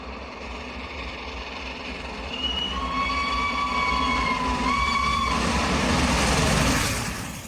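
Britain's steam locomotive Tornado hauls a whole train unaided: a steady rumbling roll under sustained whistle tones, growing louder and nearer partway through before easing off at the end.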